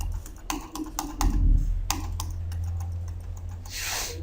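Computer keyboard keys tapped in bursts of quick, close clicks with short pauses between runs, fairly clear over a low background hum.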